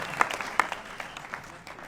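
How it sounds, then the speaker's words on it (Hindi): Audience applause for a student team at an anti-addiction event for students, a short burst of scattered, moderately loud clapping from a modest crowd. "एक बार सभी के लिए ताली हो जाए।"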